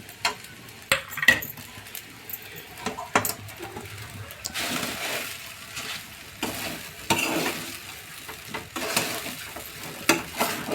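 Sabudana khichdi sautéed and stirred in a pan, with scraping strokes of a spoon and a steady sizzle, louder bursts of stirring recurring through the clip, close by, with no talking.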